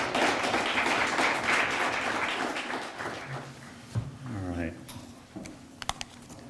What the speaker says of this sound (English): So give them a round of applause and your attention.